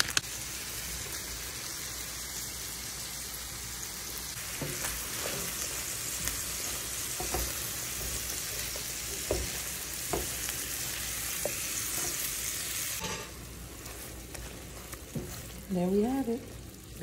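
Beef strips sizzle and fry steadily in a pan for breakfast beef and broccoli, a constant close crackle with a few sharper pops and brief stirring scrapes, ending with a short burst of voice.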